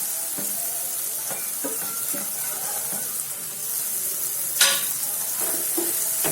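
Green eggplant stirred into cooked tomatoes in a pan makes irregular scraping and soft clattering strokes over a light sizzle, with one louder knock of the utensil near the end.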